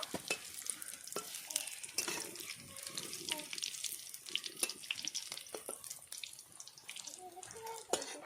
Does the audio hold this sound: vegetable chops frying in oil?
yes